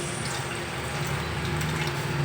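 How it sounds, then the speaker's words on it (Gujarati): Water is poured into a pan of cooking potatoes with chili for a dhokli curry, giving a brief, continuous splashing pour up close. "થોડું પાણી નાખશું ઉકળે એટલે."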